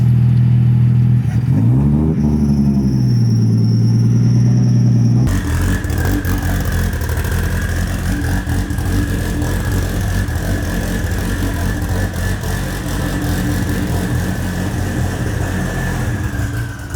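A car drifting on $15,000 wheels revs hard for a sustained stretch, its engine loud and close after an abrupt start, with a steady high whine riding over the roar.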